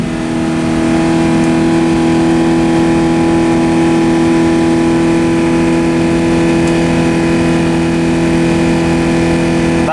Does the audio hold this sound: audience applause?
no